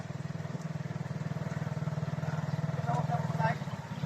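A motorcycle engine idles with a close, steady pulsing putter, as on a road after a typhoon, while people talk faintly over it.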